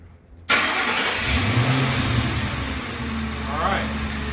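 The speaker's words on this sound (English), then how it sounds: "All right, engine is warmed up." A Ford Crown Victoria engine runs warm and steady after starting, a continuous low mid-range drone with a slight rise in revs partway through, while a voice talks over it.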